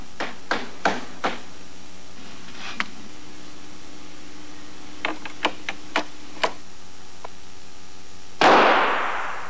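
A rifle fired at an apple in a high-speed strobe photography setup: a string of sharp clicks and knocks, then a single loud, abrupt blast near the end that decays with a hissing tail, alone without talk.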